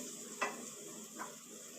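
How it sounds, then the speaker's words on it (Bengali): Prawns fry with spice masala in a pan: a soft, even sizzle with two quick scraping strokes of a spoon, heard faintly and up close. "মশলার সঙ্গে চিংড়ি মাছগুলোকে একটু ভেজে নেব"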